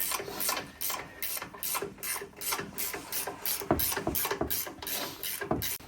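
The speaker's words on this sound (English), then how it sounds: "Ratchet wrenches make this a lot easier too up top." A ratchet wrench works on the suspension of a 2021 Ram 1500 during a leveling kit install, with rapid, evenly repeated clicking strokes heard close and steady throughout and no talking.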